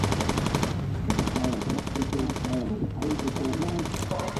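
A machine gun fired by an aircraft gunner in the video game Bomber Crew: rapid, rhythmic bursts of loud gunfire that continue with only brief gaps over droning engine noise.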